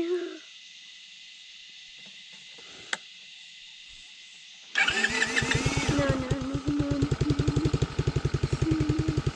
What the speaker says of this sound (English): Now we start him up